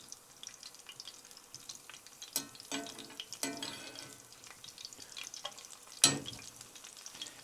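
Small bits of chili and garlic roasting in hot oil for Mexican salsa macha, giving a steady soft sizzle and crackle with occasional stirring clinks and a couple of sharper scrapes, close and moderately quiet.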